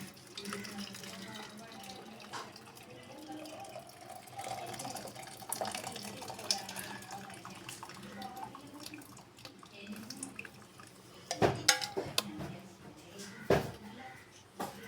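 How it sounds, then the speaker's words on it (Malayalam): Boiled hibiscus petal tea is poured through a strainer, a soft running splash of liquid under quiet talk, with a few sharp clinks of utensils near the end. "നമുക്കിനി ഇതിനെ അരിക്കാം."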